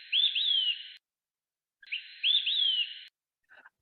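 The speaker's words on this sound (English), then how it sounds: "sounds like pip 3 beers or quick 3 beer." Male olive-sided flycatcher song, the whistled quick-three-beers phrase, given twice in loud, clear succession with a short pause between, each a brief note followed by two slurred, ringing whistles; a faint, brief chirp follows at the end.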